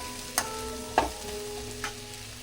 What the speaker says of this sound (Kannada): ಈರುಳ್ಳಿನ ಕಟ್ ಮಾಡಿ ಇಟ್ಕೊಂಡಿದ್ದನ್ನು ಸೇರಿಸ್ತಾ ಇದ್ದೀನಿ. ಇದು ಚೆನ್ನಾಗಿ ಫ್ರೈ ಆಗಬೇಕು.